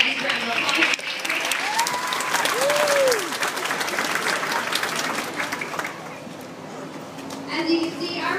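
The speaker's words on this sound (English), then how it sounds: "Everybody's giving you a nice round of applause." A crowd claps steadily at a dolphin show, a dense continuous wash of applause with children's voices and a whistle-like chirp heard through it, tapering off near the end.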